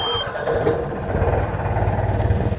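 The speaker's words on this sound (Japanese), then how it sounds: "でエンジンをかけて、" A boat's outboard engine catches after a brief starting noise and settles into a steady, close, chugging idle with a regular low pulse.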